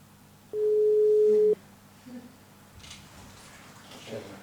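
A telephone busy signal after a cut-off call on a radio show sounds as a single steady one-second tone, clear and close, followed by faint background noise and brief murmurs.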